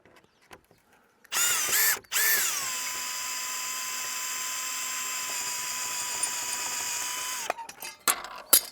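A power drill backs screws out of metal gate hinges, with a loud close high whine that starts, stops briefly, then holds for several seconds before cutting out amid small clicks.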